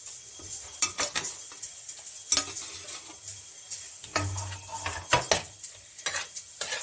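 Roasted, charred eggplant is dropped into a pan and stirred, producing soft intermittent scrapes, light clinks of a utensil against the metal, and a faint sizzle underneath at moderate volume.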